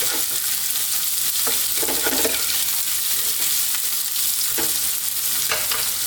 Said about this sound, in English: Now we're going to add the onions. I'm using a red onion